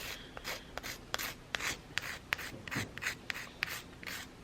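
A nail file rasps against the edge of a gel nail extension in quick, short strokes, a close, quiet, rhythmic scratching repeated about a dozen times with no talking.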